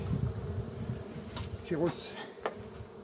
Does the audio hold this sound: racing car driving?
no